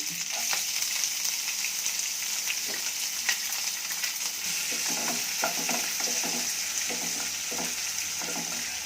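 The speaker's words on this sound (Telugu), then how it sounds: "పచ్చిమిర్చి కొంచెం వేయించుకోవాలి" Green chillies and curry leaves fry in a pan on high flame for beetroot palyamu, a steady loud sizzle with scattered crackles and stirring scrapes throughout, no voices.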